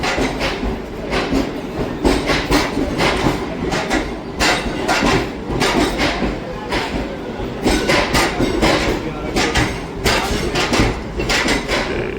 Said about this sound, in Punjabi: ਟ੍ਰੇਨ ਇਸੇ ਤਰ੍ਹਾਂ ਹਜੇ ਪਲੇਟਫਾਰਮ ਤੇ ਆਈ ਆ ਪ੍ਰਾਗਰਾਜ ਸੰਗਮ ਤੋਂ ਪਹੁੰਚ ਕੇ